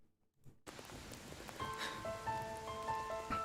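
Rain patters steadily in Final Fantasy VII Rebirth, starting after a brief near-silence and continuing as a soft, even wash with faint tonal sounds layered on top.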